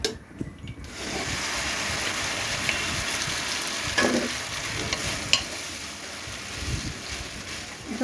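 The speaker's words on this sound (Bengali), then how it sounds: "এটা একবারে ঘিয়ের মধ্যে ভালোভাবে ভেজে নিব।" Vermicelli frying in ghee in a pan, giving a steady, loud broadband sizzle throughout, with occasional scrapes and knocks from stirring and no voices.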